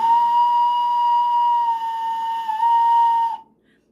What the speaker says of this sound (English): I'm going to go ahead and give it a whistle.